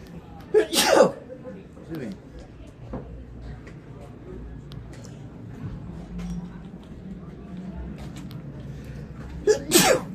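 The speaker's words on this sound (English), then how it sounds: "Is that like your fifth sneeze today?" Two loud, sharp sneezes, one near the start and one at the end, over a quiet background of faint rumble, handling noise and low voices.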